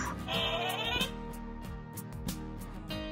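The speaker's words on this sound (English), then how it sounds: "What sound does a sheep make?" A sheep bleats in a series of wavering, nasal cries, fairly close and clear, with short breaks between calls and no talking over it.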